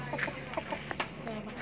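Soft, quick clucks from chickens nearby on a chicken farm, a few short calls over a quiet background.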